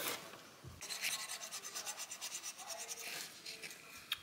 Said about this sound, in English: now he's cleaning the mating surface with a razor blade for the new actuator to go on